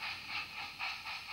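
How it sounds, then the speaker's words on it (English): A Train-Tech sound module on a model railway plays a steam locomotive chuffing. The rhythmic hissing exhaust beats come quickly and evenly at express speed, with no other sound. "So now imagine we're on an express train. The sound's getting faster and faster."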